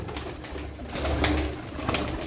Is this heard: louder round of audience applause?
no